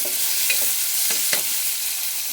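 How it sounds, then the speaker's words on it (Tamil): Fish curry masala with turmeric and salt sautés in a pan with a steady, close sizzle, and a few faint scraping stirs come through the frying noise. "மஞ்சத்தூள், கொஞ்சமாக உப்பு போட்டு நல்லா வதக்கிட்டு"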